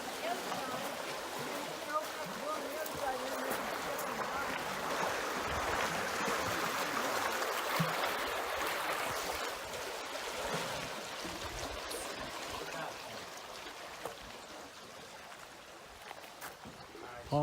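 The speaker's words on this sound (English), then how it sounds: "the water's coming out the other side now" Water rushes out through the lock doors on Saranac Lake, a steady broad flowing wash that stays fairly loud throughout and eases slightly toward the end, with faint voices in the background.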